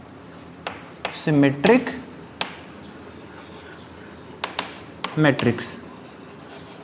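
Marker or chalk strokes on a classroom board during a mathematics lesson on matrices, with short scratchy bursts of writing mixed in with a teacher's speech.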